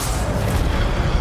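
A fire spell from the Hogwarts Legacy video game sounds as a brief whooshing roar with a low rumbling burst, loud and dense throughout.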